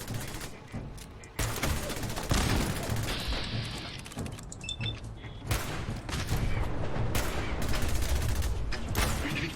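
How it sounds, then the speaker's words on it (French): A naval cannon broadside fires at wreck scavengers in Fallout 4, a dense fusillade of heavy booms and rapid blasts rolling on loudly and continuously with metallic mechanical clanks between shots. "Les canons sont prêts. Feu à volonté. Balancez-leur une bonne bordée"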